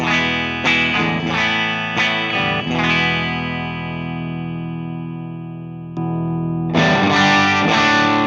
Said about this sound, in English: it's a good tube screamer into the amp